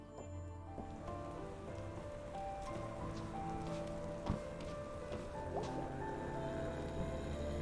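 Steady rain falls throughout in the video game Night in the Woods, a continuous wet patter with scattered drips and splashes, moderately loud and with no voices over it.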